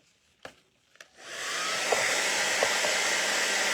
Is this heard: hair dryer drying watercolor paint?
yes